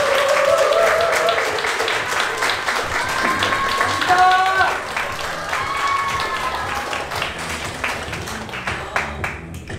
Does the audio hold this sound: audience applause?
yes